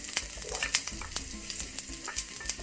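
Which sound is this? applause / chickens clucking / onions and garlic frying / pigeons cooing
onions and garlic frying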